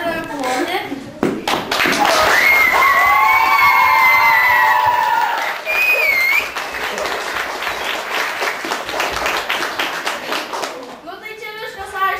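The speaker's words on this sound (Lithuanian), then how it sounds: "Pirmi turės ploti už Dvenčianės, kuo garsiau, o dabar pradedame ploti." Loud, sustained clapping from an audience voting by noise for a contestant at a Lithuanian event, dense hand claps with whoops and shrill cheering and whistling in the middle, lasting the whole stretch.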